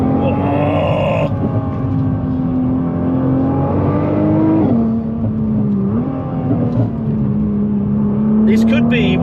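A Nissan GT-R NISMO pulls hard along a twisting driving road, its engine droning loud and close with rising and falling revs as it accelerates and shifts, plus a brief sharper burst near the end.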